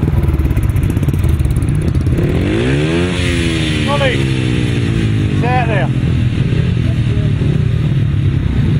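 Several 500cc solo grasstrack motorcycles roar away from the start at a midlands grasstrack meeting, engines rising and shifting loudly, close and continuous, under a commentator's voice.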